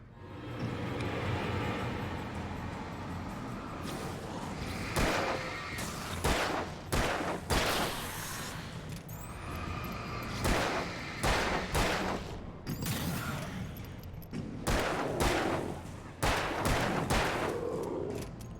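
Gunfire in the video game Alan Wake, including flare gun shots: a rapid series of sharp, loud bangs and bursts, spaced irregularly over a low rumbling game backdrop.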